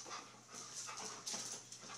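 Dog panting indoors in quick, rhythmic breathy huffs, close but quiet, with no voices over it.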